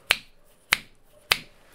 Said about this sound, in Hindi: चुटकी बजानी है